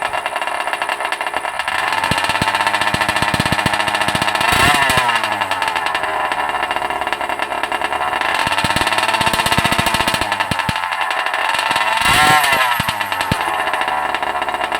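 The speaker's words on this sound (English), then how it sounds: "Hitting the throttle." An OBR 47cc small two-stroke engine being broken in revs hard as the throttle is hit, a loud buzzing chainsaw-like whine that surges and dips in pitch several times, close up, with no talking.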